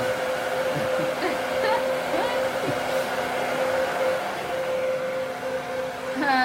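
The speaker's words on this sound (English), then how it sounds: "It is a loud blow dryer." A loud blow dryer drying a woman's hair at a salon during a long layered haircut, blowing as a steady, close whine with a constant hum that runs unbroken throughout.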